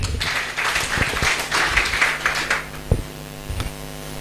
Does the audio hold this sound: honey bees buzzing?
no